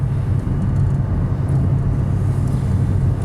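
Ford Mustang engine idling or coasting with the driver off the throttle, a steady low rumbling drone heard from inside the car, continuous and fairly loud with no voices.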